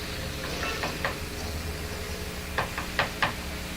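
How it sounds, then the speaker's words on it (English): Knocking on a door in the middle of the night: two groups of sharp raps, a pair early on and then a quicker run of four, over a steady low hum. "Who'd be knocking at 2:30?"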